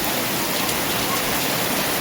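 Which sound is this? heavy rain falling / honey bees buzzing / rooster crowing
heavy rain falling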